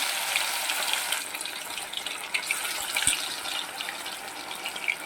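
Pieces of Bombay duck fish fry in hot oil over a medium flame, giving a steady, close, crackling sizzle throughout with small pops and no talking.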